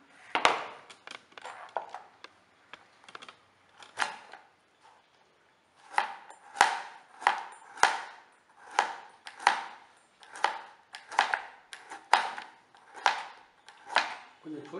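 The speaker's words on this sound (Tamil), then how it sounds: "சின்ன சின்ன பீஸாக நம்ம கட் பண்ணிக்கலாம்." Knife chopping four peeled carrots into small pieces on a cutting board, a run of sharp, crisp cuts, sparse at first and then settling into a steady, close, regular rhythm.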